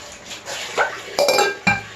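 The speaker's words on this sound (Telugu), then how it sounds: "స్టీల్ గిన్నెలు, షాంపూ వేసి తోముకున్న గిన్నెలు, ప్లేట్లు, గ్లాసులు ఇవన్నీ ఈ విధంగా గిన్నెలకు వేసుకోవాలి" Washed steel dishes, plates and glasses being stacked, making three sharp metallic clanks and clinks in quick succession, close by and fairly loud.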